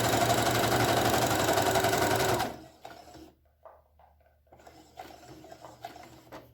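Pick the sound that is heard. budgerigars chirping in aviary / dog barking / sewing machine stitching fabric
sewing machine stitching fabric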